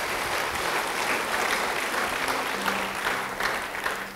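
Audience applause at a church sermon, a dense steady wash of many hands clapping for about four seconds, fairly loud and continuous, with no speech over it.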